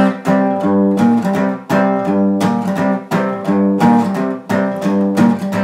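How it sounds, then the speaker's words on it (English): Strummed electric guitar C bar chords with a bass line running underneath, from a song, played in a steady rhythm of repeated strums with brief gaps between phrases. "So during the verse, I'd like to play a C bar chord,"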